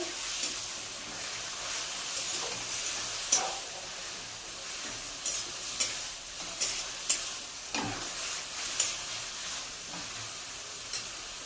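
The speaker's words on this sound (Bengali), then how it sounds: "এখানে আদা রসুন বাটাটা দিয়ে দিলাম টমেটো বাটাটা দিয়ে দিলাম" Ginger garlic paste and tomato paste fry in a pan with a soft, steady hiss, and faint spatters and scattered light clicks of stirring come through now and then, with no voices.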